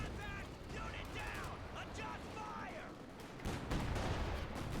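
A Stuka dive bomber opens fire in a World War II video game, a loud, rough burst of gunfire and rumbling blasts swelling in the second half over dense battle noise.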